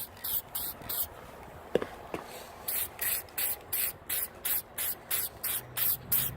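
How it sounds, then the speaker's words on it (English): Gasket sealant spray hisses from a can onto a Mazda Miata cylinder head in a run of quick, evenly spaced bursts, about a dozen short pulses close to the microphone, with a couple of faint knocks early on. "So what's this spray do, Matthew?"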